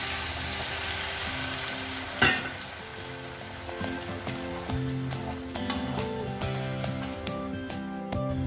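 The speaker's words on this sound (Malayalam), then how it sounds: "നല്ല തിളച്ച വെള്ളമാണ് ഒഴിച്ചു കൊടുക്കുന്നത്" Boiling water poured into a sizzling masala curry in a pan, a loud hiss and spatter bursting at once, then a steady crackling simmer with light stirring clinks.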